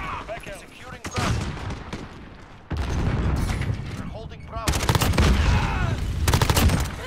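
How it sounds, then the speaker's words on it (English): Bursts of rapid gunfire in a shooter video game set in bot lobbies, loud and dense, building into heavier sustained volleys toward the end, with players talking over the shots. "Look, he just shot another one."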